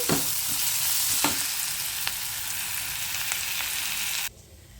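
Rice with fenugreek leaves is stirred in a sizzling frying pan: a steady hiss of frying with occasional scraping clicks, then the sizzle abruptly drops away near the end.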